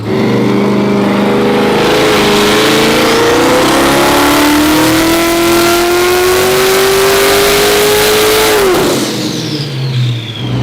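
A race car with a turbocharged engine accelerates hard in fourth gear during a world-record attempt, its loud, sustained engine note climbing steadily in pitch for about eight seconds before the throttle lifts and the revs drop away.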